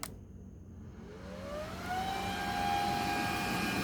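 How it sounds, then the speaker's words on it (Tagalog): An electric fan set to turbo spins up, its whirring whine climbing in pitch over the first couple of seconds and then holding as a loud, steady rush of air, with no voices. "So ito sa fan, turbo yan."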